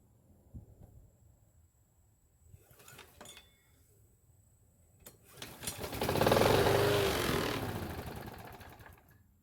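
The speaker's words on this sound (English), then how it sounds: "So it started and ran, but only on the fuel the primer bulb was able to push into the engine" A Toro lawn mower starts and runs only on fuel pushed in by the primer bulb. Quiet clicks and handling noises come first, then the engine catches about halfway in, runs loud and close, and slowly fades.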